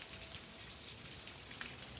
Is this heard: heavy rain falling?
yes